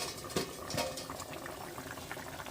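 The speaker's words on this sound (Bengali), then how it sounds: "কাঠের উনুনে রান্না করলে তরকারিটা কি সুন্দর ফুটছে দেখো।" Vegetable curry with cauliflower simmers in a pot over a village wood-fired stove, a steady close bubbling with soft pops and crackles throughout, no voices.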